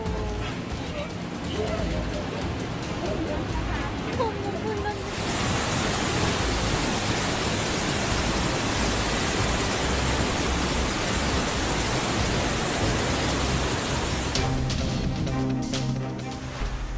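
Rushing floodwater in Himachal Pradesh, a dense, continuous roar of churning water that stays loud and steady throughout, with no pauses.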